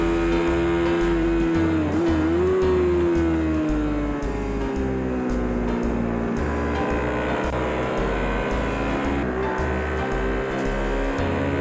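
Honda CBR250R racing motorcycle at Twin Ring Motegi, its engine held at a loud, steady high pitch on the back straight, the tone dipping and rising slightly as it overtakes another bike in the slipstream.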